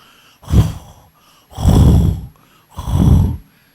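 Three loud, drawn-out snores in a slow, even rhythm, close up; a voice imitating heavy snoring.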